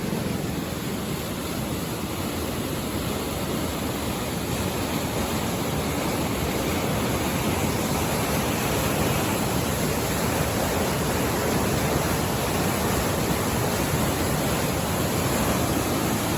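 Floodwater rushes through open dam gates during heavy rain in Kashmir, a loud, constant broadband roar of churning water that never lets up and has no voices over it.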